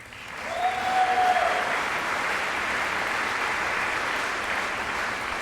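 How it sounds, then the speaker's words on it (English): Steady applause from a large audience fills the hall at a 2007 University of Manchester graduation ceremony, rising quickly and holding at an even level without pause. "That was a nice cheer."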